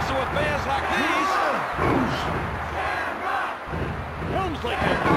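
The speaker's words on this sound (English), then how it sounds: "Listen to this capacity crowd." Wrestling arena crowd in the WWF Warzone video game roars and cheers steadily throughout, a dense, loud wall of voices with rising swells and scattered shouts.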